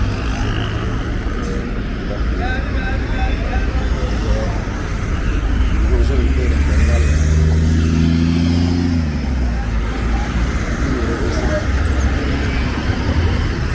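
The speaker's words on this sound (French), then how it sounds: "Les bus passent pour les arrêts de bus." Buses and road traffic pass a bus stop near a police school in Abidjan, Côte d'Ivoire, as a loud, continuous roadway roar, with one engine revving up and fading in the middle.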